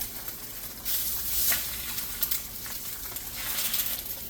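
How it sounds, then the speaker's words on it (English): Eggs frying over easy in a pan of oil for chilaquiles make a steady soft sizzle with small crackling spits, close up and alone, heard with no talking. "go ahead and add your eggs. And we're just going to cook these over easy."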